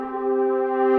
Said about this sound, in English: And then we got rapid swells.